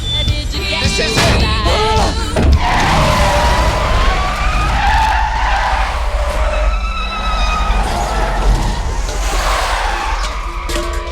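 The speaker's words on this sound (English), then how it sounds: "Both vehicles screeched to a stop in a perfectly choreographed automotive dance." Loud, wavering tire squeals screech across the clip over a roaring engine and road noise, as cars skid hard and brake.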